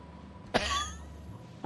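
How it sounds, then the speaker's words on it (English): In The Outer Worlds PC game, a character gives one sharp, close cough after a moment of quiet room tone, then silence. "I suppose I'll be terminated for coughing on duty"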